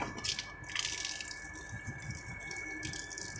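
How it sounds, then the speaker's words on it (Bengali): Water drains from a dirty goldfish aquarium, trickling and splashing close by with some uneven gurgles over a faint steady hum. "আমাদের গোল্ডেন ফিশের অ্যাকোয়ারিয়ামটা খুব নোংরা হয়ে গেছে তার জন্য জলটা বের করে দেবো আজকে"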